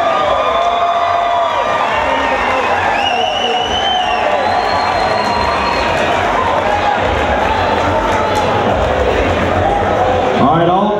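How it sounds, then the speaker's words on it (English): A crowd at an MMA fight applauds and cheers after a three-round bout, a loud, sustained roar of clapping and shouting that fills the arena continuously, with a voice over the noise. "Give them a round of applause"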